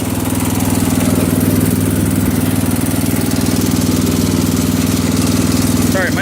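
An old John Deere tractor engine idles with a slight tick, a loud, steady low chugging rumble close by with a fast even pulse throughout.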